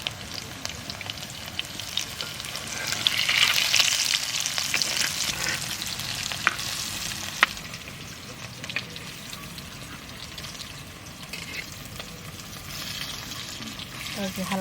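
Potato pieces fry steadily in hot oil over low heat, a continuous close sizzle with occasional stirring scrapes and clinks running throughout.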